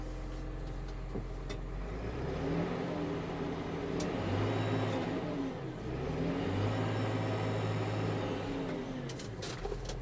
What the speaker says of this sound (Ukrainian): Я не знаю, чи вам чути двигуна.